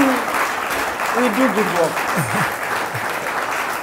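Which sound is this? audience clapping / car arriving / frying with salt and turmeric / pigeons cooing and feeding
audience clapping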